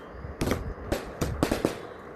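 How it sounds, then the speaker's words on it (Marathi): A rapid string of Diwali firecrackers pops off in sharp cracking bangs, quick irregular bursts, fairly distant, with no voices. "फटाक्याच्या माळा पण लावल्या होत्या"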